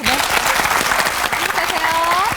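Studio audience applause on a Korean television talk show, dense steady clapping filling the room, with a voice speaking over it.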